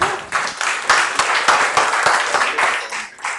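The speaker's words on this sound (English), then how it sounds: "A round of applause for Eyo Ebo." An audience at a power industry dialogue event gives a round of applause, a steady dense clapping that stays loud for a few seconds.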